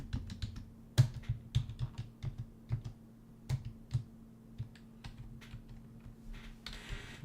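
Irregular keystrokes on a computer keyboard clatter close by throughout, alone with no talk, bursts of clicks separated by brief pauses over a steady low hum.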